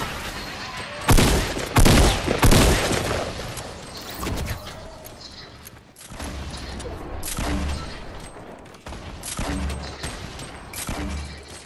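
Video game gunfire comes in repeated loud bursts of rapid shots, some close and some further off, with players talking intermittently between and over the shooting.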